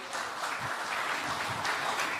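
Brief, fairly faint round of applause from a crowd at a political gathering for a minister, a soft even patter of many hands lasting about two seconds.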